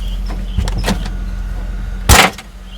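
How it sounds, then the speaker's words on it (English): Loose rattling and knocking inside the door of a 1993-2002 Camaro with worn window tracks and guides, heard as the power window motor runs, with a few light knocks and then a louder burst near the end. "Still hear so much rattling in there"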